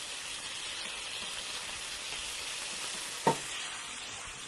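Anchovies fry in anchovy oil with hot pepper seeds, a steady soft sizzle broken once by a single brief sharp pop near the end, with no talk.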